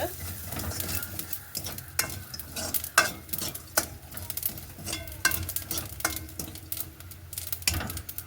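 Vegetables are sautéed in a pan for rava upma, with a continuous sizzle broken by repeated spoon scrapes and clinks against the pan.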